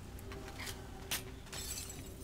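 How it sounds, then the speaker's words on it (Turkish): Glass shatters in the zombie shooter Nazi Zombies on the Verrückt map, a few quiet, bright crashes and tinkles over a low, steady game hum. "Oo, cam kırabiliyorum, harika."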